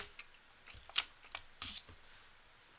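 A deck of tarot cards is shuffled with soft riffles and taps, quiet and close, at a live reading.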